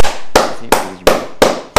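Five sharp firecracker blasts go off in a video game, loud close cracks spaced evenly about a third of a second apart.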